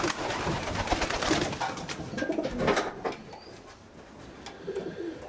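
Male racing pigeons in the cocks' resting room of a loft give soft, low cooing calls amid quiet shuffling, nearby and fairly faint, with no talking.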